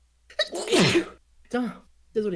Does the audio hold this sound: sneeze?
yes